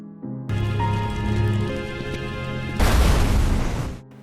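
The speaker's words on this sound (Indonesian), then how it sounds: "melemparkannya ke dalam bak truk yang terbakar hingga meledak bersama mobilnya" A burning truck bed explodes along with a car in a film scene over a tense musical score. After sustained tones, a loud, broad blast erupts and rumbles for about a second before fading, with no talking.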